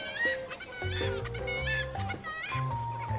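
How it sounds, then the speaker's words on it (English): Seagulls squawk in the Love and Deepspace video game, with several harsh, laughing bird calls rising over a steady bed of game music. "The seagull's laughter becomes loud."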